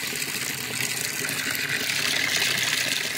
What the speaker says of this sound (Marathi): अजून पण पाणी चाललंय रस्त्याला.